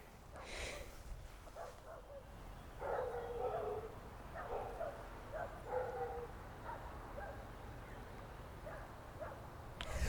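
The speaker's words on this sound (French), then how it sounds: "je n'aime pas les chiens qui aboient, pourtant, quand je les entends de loin, je les aime bien" Dogs bark and yip at a distance, with short bursts scattered over a steady outdoor background hiss.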